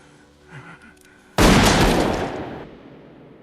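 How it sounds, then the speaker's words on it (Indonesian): A single sharp gunshot from a film scene, a man shooting his rival, bursts loudly out of near silence and then rings off in a long, fading echo. "Karena tidak terima dan sakit hati, Om Humbert akhirnya menembak Quilty"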